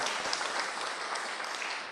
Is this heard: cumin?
no